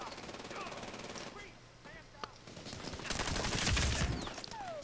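Gunfire rattles through a team deathmatch on Shogore Valley in Medal of Honor Warfighter, sparse at first and then swelling into a dense, fairly loud burst of rapid shots in the second half.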